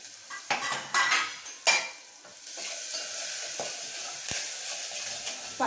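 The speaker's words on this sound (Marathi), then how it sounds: "जे वाटण काढलं होतं ते वाटणही मी आता याच्यामध्ये टाकणार आहे" Ground spice paste goes into a thin, hot pot for a sweet-sour kadhi with bhaji, giving spoon-and-pot clatter and stirring scrapes followed by a steady, moderate sizzle, with no talk.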